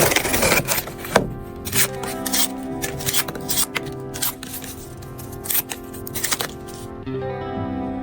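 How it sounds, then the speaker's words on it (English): A sharp 4-in-1 utility knife box cutter slices through cardboard and rope, giving repeated scraping, rasping cuts in an irregular rhythm, close and fairly loud, with no talking. "Sharp box cutter, clean, effortless cuts through cardboard and rope every time."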